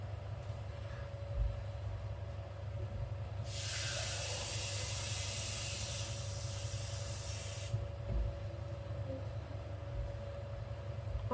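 Water pours into a pot of rice in a home kitchen, a steady hissing rush lasting about four seconds against a low background hum, with quiet before and after.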